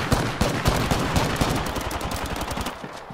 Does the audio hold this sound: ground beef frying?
no